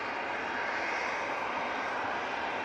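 An airliner at Manchester Airport lining up on runway 23 left for a flight to Belfast, its jet engines giving a steady broadband roar heard from a distance, with no voices over it.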